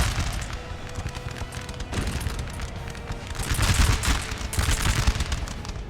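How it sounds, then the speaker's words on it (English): Continuous battle din from a Napoleon Total War game: dense rolling volleys and booming artillery fire in a Napoleonic battle between English, Prussian and French armies, a steady loud rumble swelling toward the end, with no talk. "But the English artillery just firing at the French cavalry"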